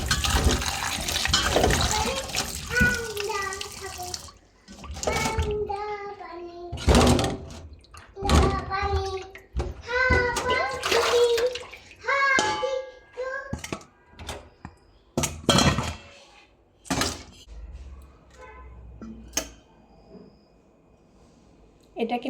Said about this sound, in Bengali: আমি আরেকটা ধুয়ে নেবো পরিষ্কার করে